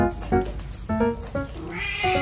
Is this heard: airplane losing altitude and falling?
no